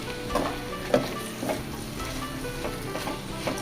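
Ginger, tomato and green chillies sautéing in a pan for a Kerala chicken curry, a steady close sizzle with soft stirring scrapes and clicks at irregular intervals, no voices.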